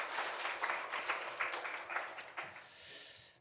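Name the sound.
congregation applause in church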